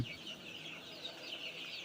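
Chickens cluck quietly and continuously inside a poultry farm with young chicks, a soft chorus of chirps heard at a distance.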